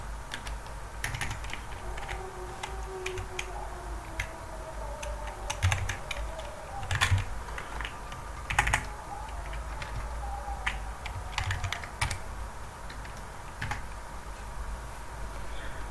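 Rapid, irregular clicks of a computer keyboard as code is typed, steady keystrokes over quiet room noise with a few louder taps, no voices.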